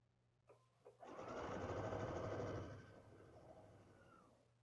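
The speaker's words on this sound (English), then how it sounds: "I'm going to sew on that right side again." A sewing machine stitches quilt fabric blocks in one steady run of about two seconds, then slows and stops. A few faint handling clicks come just before it starts, with a low hum underneath throughout.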